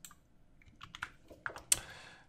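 Computer keyboard keys click in quick, uneven bursts while entering an Excel formula, several crisp close taps with a sharper final keystroke.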